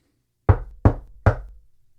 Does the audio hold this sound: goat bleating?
no